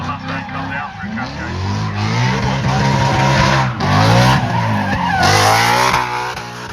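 Drift cars at a Tunerfest North drift event sliding downhill with loud, sustained tire squeal and revving engines, a pair of cars running together, with a commentator talking over the action throughout.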